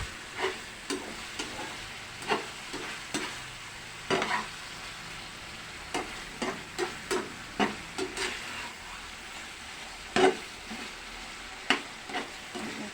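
Pork sizzles steadily in a pan while a metal spoon scrapes and stirs it, giving repeated sharp clinks and scrapes every second or so over the continuous frying hiss.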